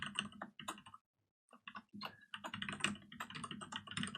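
Rapid typing of a password on a computer keyboard, close-up clusters of quick key clicks with a brief pause partway through, then steady bursts of keystrokes, no voices.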